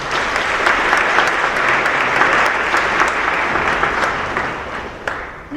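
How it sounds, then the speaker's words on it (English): An audience at a ribbon-cutting ceremony breaks into sustained applause, a dense wash of clapping that holds steady for several seconds before tapering off near the end. "If you please give her a big round of applause."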